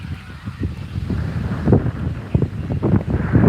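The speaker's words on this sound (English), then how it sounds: "this wind just about blowing the camera stand around" Wind buffets a camera microphone outdoors at a jamboree game, giving a steady low rumble with gusty swells and a few brief honk-like bursts over it.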